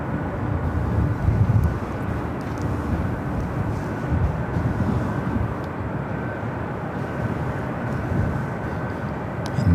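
Aircraft at Los Angeles International Airport (LAX) make a loud, steady engine roar that holds as an unbroken rumble and whoosh from start to finish, with no talk over it.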